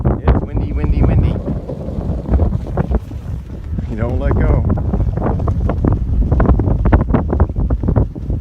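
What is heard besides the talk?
wind blowing while flying a kite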